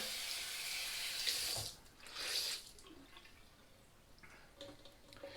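Water runs from a tap into a sink, a steady splashing stream that cuts off and leaves faint drips and trickles.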